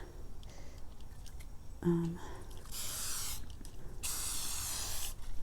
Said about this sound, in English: the directions of the Scotch Guard says to spray two light coats and then one kind of heavy coat